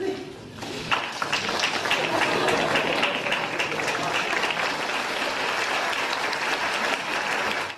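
A delirious crowd cheers and applauds as a politician wanders through a town, waving; dense, sustained clapping and shouting fill the whole stretch, close and loud, with no pause.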